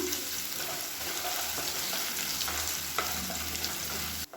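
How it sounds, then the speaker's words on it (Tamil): Six cloves of crushed garlic sauté in a pan of hot oil for a tomato chutney, giving a continuous close sizzle with faint stirring scrapes and no talking. "இதையும் சேர்த்து நல்லா கலர் மாறி வர அளவுக்கு வதக்கி விட்டுக்கலாம்."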